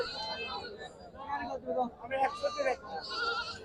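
Goats bleat repeatedly, several overlapping calls close by, amid the chatter of a busy rural goat market.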